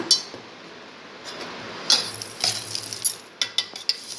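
Salt sprinkled over cut lemons for lemon pickle in a steel vessel, a faint grainy rustle followed by a run of light clicks and scrapes as it is tossed and stirred, close and quiet.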